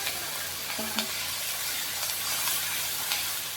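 A splash of water hits a hot kadai of cooking meat, raising a strong continuous sizzle and hiss that stays even throughout, with a couple of faint clicks near the start.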